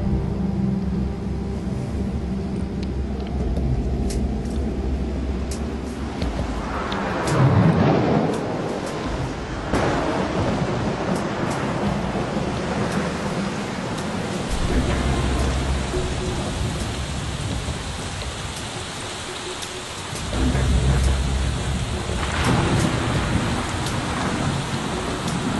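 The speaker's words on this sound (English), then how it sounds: "It is raining." Steady heavy rain pours throughout in a video game scene on a river, with deep rumbles of thunder swelling around the middle and again near the end.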